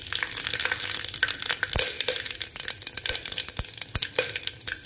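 Whole spices, cumin, garlic, green chilli and onion sizzle as a tempering in hot oil for a chickpea and pea chole. Steady, dense frying hiss is laced with frequent crackling pops throughout, with no talking.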